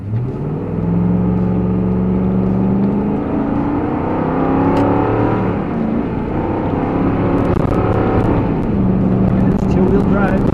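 A two-wheel-drive Ford F150 pickup truck accelerating up to 45 mph, with a steady engine drone and rising whir heard from inside the cab under constant talking.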